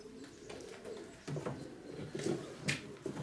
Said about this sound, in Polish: Spójrzmy teraz z bliska na te gołąbki.